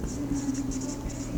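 Marker or chalk writing on a board during a physics lecture on the Carnot cycle: a faint, steady scratching stroke over a low room hum.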